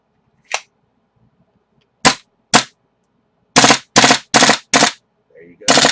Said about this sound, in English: Let's see if I can adjust this so you can hear it on full auto.